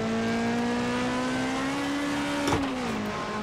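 A race car in the X Motor Racing video game holds a loud, steady engine drone that climbs slightly in pitch, with a sharp tire squeal or skid around the middle before the engine settles again.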